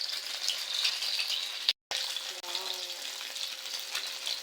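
Embutido frying in hot cooking oil, a steady close sizzle and crackle with a brief break midway and occasional faint stirring clatter.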